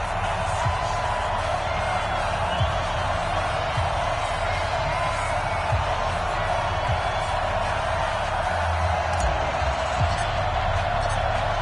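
Stadium crowd in an NFL football game on PS4 for a Kansas City Chiefs versus Oakland Raiders matchup, a steady roar of cheering and whoops beneath an announcer's voice.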